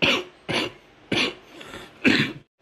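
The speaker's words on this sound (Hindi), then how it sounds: "खांसी वगैरह भी हो रखे जैसा आप लोगों ने देखा।" Four harsh coughs in an uneven sequence, close and fairly loud, with short quiet gaps between them.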